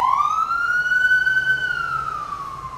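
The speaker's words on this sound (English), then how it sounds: "Sirens, sirens, and more sirens." A city emergency vehicle siren wails in one long, loud, rising-then-falling sweep. It is close and steady, with faint traffic rumble beneath and no talking.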